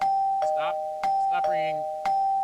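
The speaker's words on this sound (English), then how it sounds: "Stop ringing the bell." A synthetic doorbell chimes repeatedly in the video game Minecraft with MrCrayfish's Furniture Mod, three quick rings about a second apart, over a constant electronic hum.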